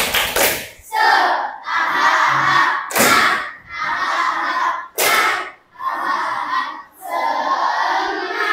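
A classroom of students performs a rhythmic spirit clap, sharp sets of loud unison claps alternating with group shouted chants, repeated in several cycles.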